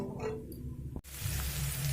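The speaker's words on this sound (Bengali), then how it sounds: "দেখুন মশলাটা একটু ভাজা হয়ে এসছে" A chilli spice mixture frying in a pan, a soft near sizzle that becomes a fuller, even frying hiss after a brief break midway.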